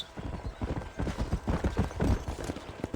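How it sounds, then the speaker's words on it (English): Horse hooves clip-clop in Red Dead Redemption, a brisk, regular galloping rhythm of hoof beats close by and fairly loud, heard alone with no talking. "Come on, Mr. Horse."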